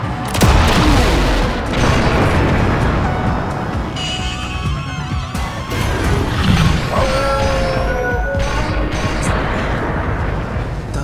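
A rail cannon fires in a Japanese tokusatsu battle scene, giving a loud, close blast followed by a sustained roaring crash with rising whines and rumbling debris over about ten seconds.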